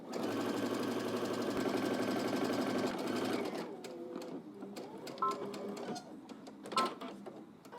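A sewing machine stitches a skirt seam in one loud, fast continuous run that halts partway through, followed by quieter clicks and handling noises.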